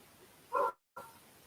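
A single faint dog bark from a house, short and somewhat distant, followed by a brief cutout and quiet room tone.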